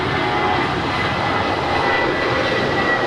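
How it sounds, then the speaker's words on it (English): A 21-year-old American Airlines Airbus A320 takes off from runway 25 right at LAX, bound for Phoenix, its jet engines a steady, loud, broadband roar with no pauses. "That was American 1270 departing to Phoenix. It's a 21-year-old Airbus A320."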